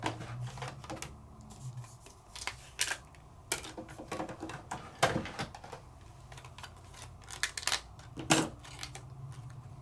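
A Cut 'n Foil die, slightly thicker than a standard wafer die, is run through a die-cutting machine in one pass, giving a steady mechanical grind with scattered sharp clicks and knocks up close, without any talking.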